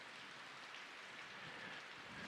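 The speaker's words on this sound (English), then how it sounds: "And the rain which you hear now is the constant watering of it" Steady, soft rainfall patters continuously on surfaces, an even, faint hiss of falling drops with no voices or other sounds over it.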